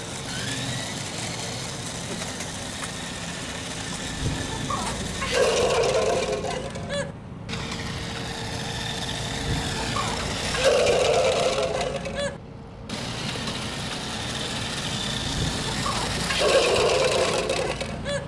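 TerraSect RC toy vehicles from Alpha Toys race an obstacle course, their small electric motors whirring continuously and close, with brief louder grinding bursts and a couple of short dips.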